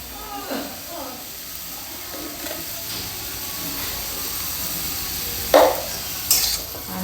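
Ridge gourd with salt sautéing in a pan under a low hiss, with occasional scraping stirs and a couple of sharper clinks of the spoon, close by with a voice faintly present.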